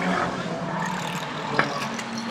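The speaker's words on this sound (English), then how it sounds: "Listen to those cars roar." Banger stock cars roar off at the start of a race, a loud mass of engines droning together, joined briefly by a sharp clatter partway through, while a commentator talks over the noise.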